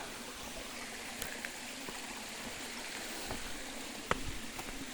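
A clear forest stream flowing steadily in a steady, close, broadband wash, with occasional small splashes and a few faint clicks, no voices.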